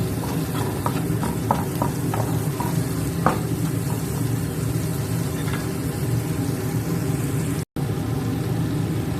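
Stir-frying in a pan with light soy sauce makes a loud, continuous sizzle with scraping stirs and light clicks of a utensil throughout, close by and alone.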